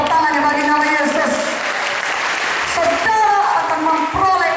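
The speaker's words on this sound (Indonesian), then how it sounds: "Mana tepuk tangannya bagi nama Yesus." A church congregation at a revival service in Sorong, Papua claps in a dense, sustained round of applause while a musical tone and voices carry on beneath it.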